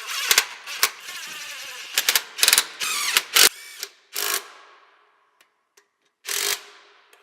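A ratchet tightens bolts while an intake throttle valve is reinstalled on a Cummins ISX15 diesel engine during an intake manifold install. Short, sharp clicking bursts come up close, separated by pauses and fading to quiet near the end.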